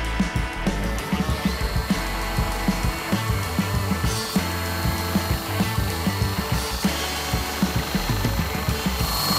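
An angle grinder cuts into a piece of wood, a loud continuous motor whine with a rough, rapidly pulsing grinding texture as the disc bites into the workpiece.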